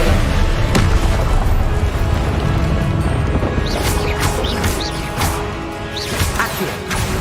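Confringo blasting curse explosions in Hogwarts Legacy, a loud run of booming crashes and whooshing bursts that repeat rapidly through a spell-filled fight, with no voices.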